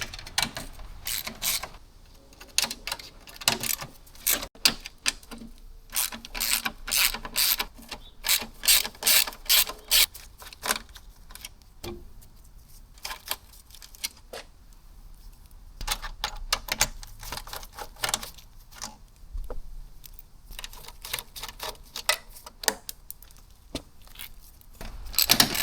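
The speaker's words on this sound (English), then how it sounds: "now I'll be taking out the hood latch system where it locks" A hand ratchet works on the hood latch of a BMW E36 during front-end disassembly, with rapid clicking bursts and pauses, close by, mixed with metallic handling clatter.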